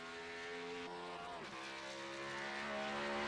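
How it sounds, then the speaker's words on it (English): A race car engine runs on track during qualifying at Daytona, a steady harmonic drone that shifts pitch as it drops through a gear change, moderately distant and continuous. "I hear an engine going."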